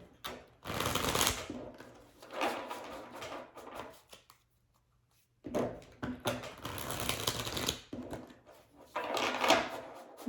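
Tarot cards being shuffled and drawn from a deck: repeated riffling, rustling bursts close to the mic, separated by short quiet gaps, with one longer silence midway.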